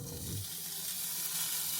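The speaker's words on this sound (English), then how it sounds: "Hear that sizzle already starting up." Bacon sizzles steadily in a hot pan, a continuous crackling hiss close by with no voices.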